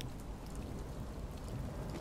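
Steady rain falling in a video game, a continuous soft hiss and patter at a constant low level with nothing else standing out.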